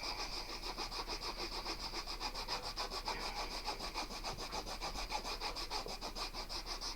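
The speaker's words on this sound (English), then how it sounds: "And you just keep sanding it." Steady hand sanding of a wooden table surface during a crafting session, a continuous scratchy rubbing with regular back-and-forth strokes, close and alone without talk.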